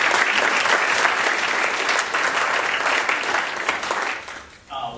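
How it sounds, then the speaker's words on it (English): A loud, dense round of audience applause in a lecture hall welcoming two law speakers at an Electoral College talk, steady clapping that tapers off at the very end. "So if you could welcome them with a round of applause."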